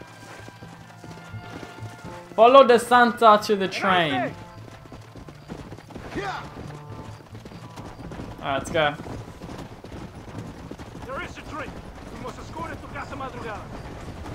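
Horse hooves clip-clopping in Red Dead Redemption gameplay, a rapid galloping patter with a loud burst early on and softer bursts later, mixed with game sound effects and voices speaking.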